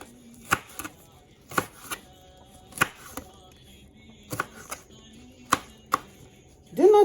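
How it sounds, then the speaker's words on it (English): A knife chops a pepper to size on a cutting board, landing as sharp, separate chops spaced irregularly with brief pauses between them. No talking. "So you cut it to desired size or shape."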